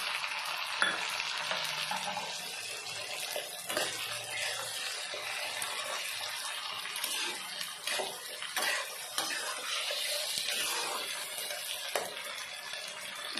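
Tomato and ginger-garlic paste fry in a pan with a close, steady sizzle and crackle. A spoon stirs through it at intervals, and no one speaks.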